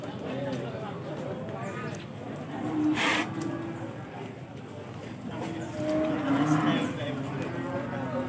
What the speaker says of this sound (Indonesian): Ini 4 ekor sapi buruan Bos Pen